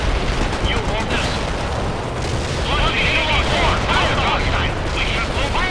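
Dense battlefield din from the video game World in Conflict, continuous gunfire and explosions rumbling throughout, with radio-style voices talking over the combat.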